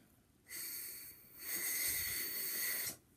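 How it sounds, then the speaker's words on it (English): Airy, hissy buzzing comes from a poorly blown trumpet mouthpiece in two faint breathy bursts, with no clear pitched tone, alone and quiet. "I need to show you guys how to blow into a trumpet mouthpiece"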